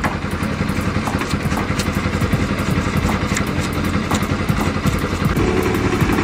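A Bajaj Pulsar NS200 motorcycle engine runs loud and close with a steady, throbbing exhaust beat and rapid clatter, holding a constant rev for several seconds with no voices.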